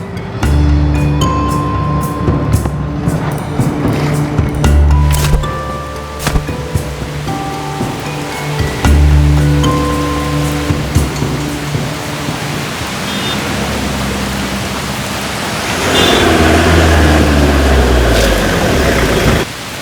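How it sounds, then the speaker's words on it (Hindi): Heavy rain pouring down at a bus stop, a dense steady hiss with scattered low rumbles and thumps underneath, loud and continuous and thickening toward the end. "बारिश हो रही है"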